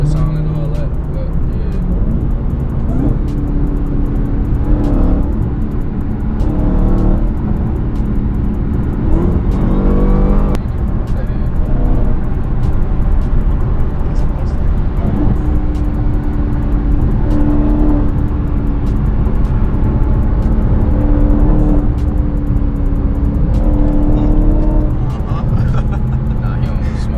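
A Dodge Hellcat with its mid muffler deleted rumbles loudly up close, its engine swelling through several revs that rise and fall over a constant heavy drone, while people talk over it.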